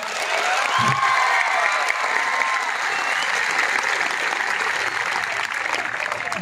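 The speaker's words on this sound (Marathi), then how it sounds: "आता फक्त जेवढे इथं पुरुष उभे आहेत ते टाळ्या वाजवायचा." Men standing in an audience at a public speech clap together in steady, dense applause that holds at an even level throughout, with a faint crowd murmur and a brief low voice near the start.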